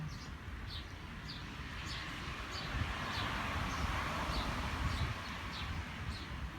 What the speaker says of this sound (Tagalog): Binibidyohan ko yung huni ng ibon.